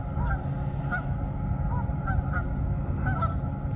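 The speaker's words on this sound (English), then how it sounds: "A lot of geese in the water" Geese in the water and across a snowy creekside trail honk repeatedly in short, nasal calls at a steady pace, somewhat distant, over a constant low outdoor rumble.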